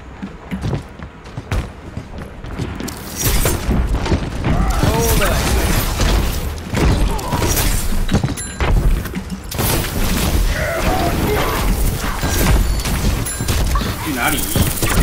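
Bomb explosions in a payload-escort shooter game, repeated loud booms and crashing debris mixed with rattling mechanisms and gunfire, dense and continuous throughout.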